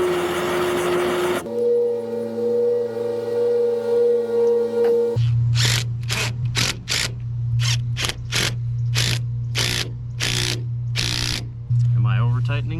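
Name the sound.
ratchet tightening a plumbing fitting on a water leak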